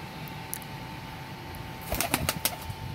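A golden pigeon takes off with a quick burst of wing flaps, several sharp flutters close by, after a faint steady hum of quiet surroundings.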